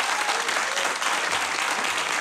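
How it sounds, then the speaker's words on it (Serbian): Studio audience applause on a late-night television talk show, a loud, even burst of many hands clapping that fills the whole stretch without voices over it. "Još jedan aplauz za ovog gospodina, molim vas."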